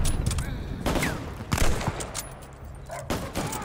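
Gunfire in the video game Call of Duty: Vanguard, on hardened difficulty, bursts in quick repeated volleys close by, with several sharp cracks.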